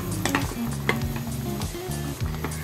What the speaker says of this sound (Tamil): இன்னும் கொஞ்சம் சவுப் மிளகாய் இதோட மிக்ஸ் பண்ணிக்கிறேன்